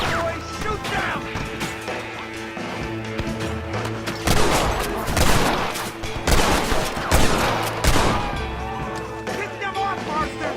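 Video game gunfire in Red Dead Redemption: bursts of shots and crashing impacts over a musical score, with characters shouting orders in the middle of a chaotic firefight.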